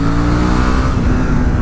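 A 2018 Suzuki V-Strom 650 motorcycle engine pulls hard to overtake, a loud steady close-up rising drone with rich low harmonics and no voices.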